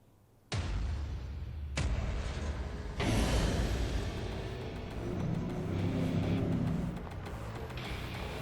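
A Citroen Aircross in The Grand Tour video game drives with a continuous engine drone and road rumble, punctuated by a few sharp bangs or impacts near the start, loud and without talk.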